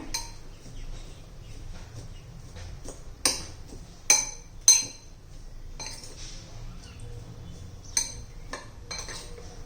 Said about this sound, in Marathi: आणि कोथिंबीर घालायची आहे छान असं मिक्स करून घेऊया